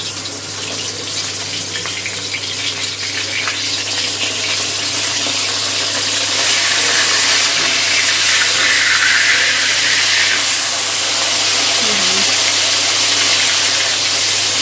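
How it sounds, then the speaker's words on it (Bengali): Katla fish frying in hot oil gives a loud, continuous sizzling hiss that holds steady throughout, with brief crackling bursts and no voices. "মাছের অপর পিঠটাও ভালো করে ভেজে নেব"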